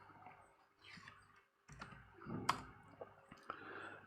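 Faint computer keyboard typing while entering a drawing command in design software, with scattered quiet clicks and taps spread unevenly over several seconds and no voice.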